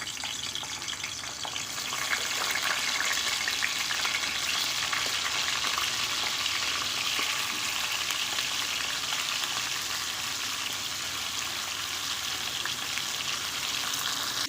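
Pointed gourd (potol) frying in hot oil in a kadai gives a steady, dense sizzle that holds evenly throughout at moderate loudness, with no voices.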